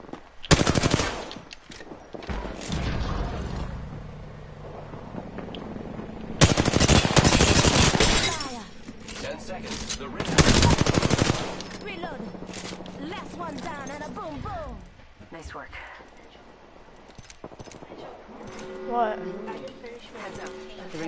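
Bursts of automatic gunfire in the battle royale shooter Apex Legends, loud intermittent volleys separated by quieter stretches of movement and game sounds, with player voices talking throughout.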